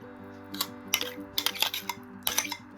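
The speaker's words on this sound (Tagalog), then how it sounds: "Halo-halo natin lahat. Mix." Utensils scrape and clink against a bowl while potato chicken salad is stirred together with mayonnaise, a cluster of irregular scraping taps over a faint steady hum.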